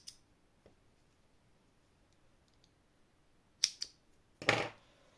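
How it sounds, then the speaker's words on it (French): Scissors snip through two crochet yarn threads close to the work while making a small crocheted snowman, giving a pair of short, quiet cuts in an otherwise silent moment. "Donc on coupe les deux fils à ras."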